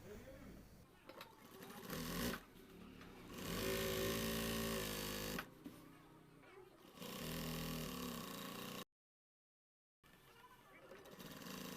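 A sewing machine stitching a five-year-old boy's pyjama, running in several motor bursts of a few seconds each with pauses between, humming and whirring close by, with a voice talking at times.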